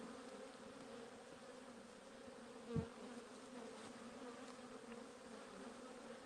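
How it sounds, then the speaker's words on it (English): Bees swarm around a beehive in a beekeeping yard with a faint, continuous low buzzing hum. One brief, closer buzz passes near the microphone in the middle, and no one is talking. "Look at all these bees though."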